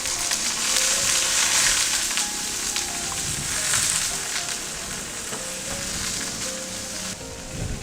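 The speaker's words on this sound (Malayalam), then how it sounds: "അതും ചേർത്ത് 3 അല്ലി വെളുത്തുള്ളിയും ഇട്ട് ചെറുതായിട്ടൊന്ന് വഴറ്റിയെടുക്കാം." Chopped medium onion and three garlic cloves sauté in a pan with a close, steady sizzle that holds evenly throughout, and no voices over it.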